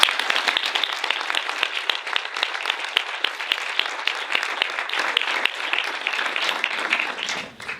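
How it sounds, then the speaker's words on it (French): A cinema masterclass audience claps warmly for the cinematographer Peter Suschitzky, a dense crackle of many hands kept up evenly for several seconds before fading out. "Je vous demande d'applaudir Peter Suschitzky."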